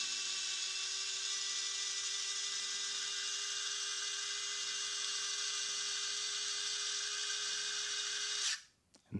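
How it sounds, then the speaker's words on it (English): A Vessel electric three-speed screwdriver whirs steadily at its highest speed while driving a screw, a constant high-pitched motor whine that cuts off abruptly near the end. "This is the highest speed that it has, the most amount of torque. If I go in with it,"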